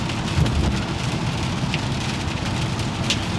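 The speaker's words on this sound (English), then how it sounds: "I thank God for the rain, even though I wish it were not raining" Steady rain falls in a dense, continuous hiss with scattered drops hitting surfaces, and no voices.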